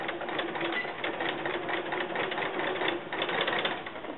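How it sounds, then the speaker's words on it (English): A sewing machine stitches quilt binding strips corner to corner, a rapid steady mechanical whir of the needle running without a break, close and fairly loud. "we're going to sew from corner to corner, just as if you are sewing your binding strips together"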